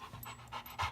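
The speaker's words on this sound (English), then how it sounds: "and the panting." An anxious, high-stress pitbull pants quickly and close by, giving several short breathy huffs in a rapid rhythm within a second.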